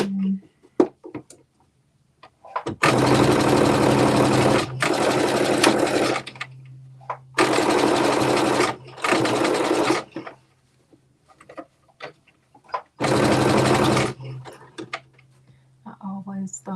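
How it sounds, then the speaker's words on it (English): A sewing machine stitches in three or four loud bursts of a few seconds each, separated by pauses filled with faint clicks and a low motor hum. "Start sewing."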